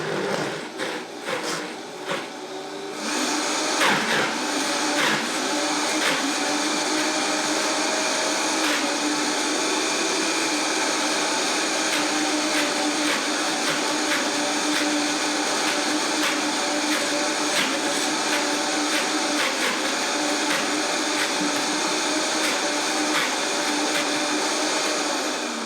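A blender whirs through a frozen berry smoothie mix, starting with uneven churning for a few seconds, then settling into a loud, steady high-speed roar that runs on without talk.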